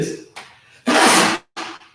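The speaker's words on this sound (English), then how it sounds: "big sneeze." A big sneeze from a person, a sharp loud burst following a short intake of breath, then a brief trailing sound, close and alone.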